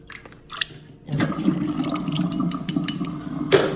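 Rinsed collard greens sit in a strainer as water drains and drips steadily from the leaves, a continuous close wet trickle with occasional louder splashes and no talking.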